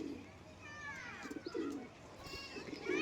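Active Giribaz pigeons kept for sale give soft, brief cooing calls close by, with faint chirps and a quiet, low-level background.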